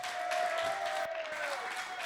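Applause from a crowd fills an esports event at the CWL Global Pro League, a steady wash of clapping with a tone sliding through it, with no speech over it.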